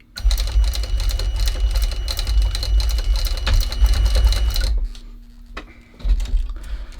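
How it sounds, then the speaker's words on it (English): A sewing machine stitches rows through the lining of a shoe tongue while an upper is being lined. It gives a loud, fast, rattling chatter that runs steadily for several seconds, stops abruptly, and then picks up again briefly. "So I'll sew the tongues in next. So I'm just putting in some rows of stitches"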